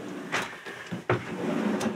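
A drawer in a craft room being pulled open, giving a couple of quick wooden slides and a sharp knock near the middle, close and moderately loud, with no speech.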